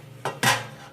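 A greased metal baking pan is picked up and set down with two quick clanks, the second louder, in a quiet kitchen.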